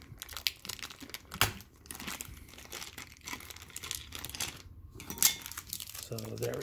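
Tape is peeled off the plastic packaging of a Nendoroid figure, close crinkling and tearing of plastic and tape in irregular bursts, with a voice speaking softly at times.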